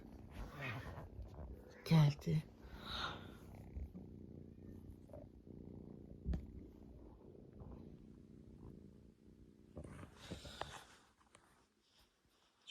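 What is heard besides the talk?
cat crying and purring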